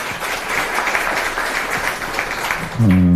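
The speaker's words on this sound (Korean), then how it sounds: "박수 부탁드리겠습니다" Audience applause at a People Power Party youth event in Busan, welcoming the party leader to speak; steady clapping fills the room, then a low amplified voice or hum cuts in near the end.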